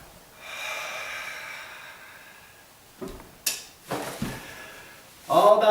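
During an exercise skill class, a participant breathes out in several sharp, close bursts separated by quiet gaps, after a soft, sustained airy sound near the start.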